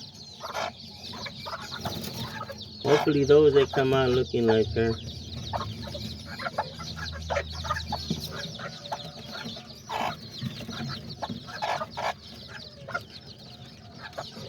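An Azteca hen with newly hatched chicks gives close clucks and a brief louder warbling call, joined by thin peeping. Someone speaks briefly over the birds.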